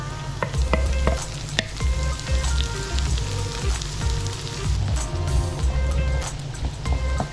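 Chopped onion and chili sizzle steadily in hot oil in a pan for Filipino sisig, a loud continuous frying crackle with occasional sharper pops and stirring clatter, no talking.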